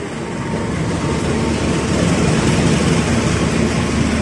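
Progo New Generation passenger train pulling into platform 4 at Jatinegara station at night, a loud, steady broadband rumble and roar of the locomotive and cars that builds slightly and holds close by.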